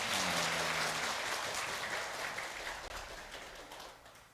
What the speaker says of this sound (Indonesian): Tepuk tangan boleh loh.